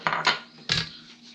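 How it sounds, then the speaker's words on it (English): A knife chops scallions on a cutting board while garlic noodles are being prepared, giving a few sharp, close knocks of the blade striking the board with short pauses between them and no voices. "Chopping the scallions."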